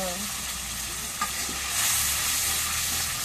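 Garlic and onion paste with spices hits hot oil in a home kitchen and fries in a steady, close hiss, with a brief tap near the start and the sizzle swelling slightly louder toward the end.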